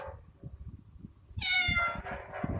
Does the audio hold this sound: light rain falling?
no